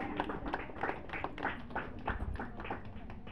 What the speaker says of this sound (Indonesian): Tepuk tangan sedikit.